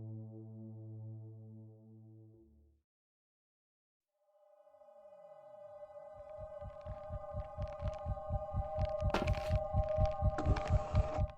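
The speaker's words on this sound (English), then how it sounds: "our heart beating in our ears" A heartbeat sound effect pulses in a steady throbbing rhythm that builds louder over several seconds, joined by a sustained hum and buzzing tones. Before it, a low droning tone stops and a short silence follows.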